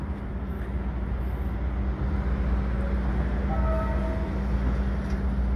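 Steady low rumble of a train passing through a city seen from a ship, distant and continuous with a faint higher tone partway through, no voices.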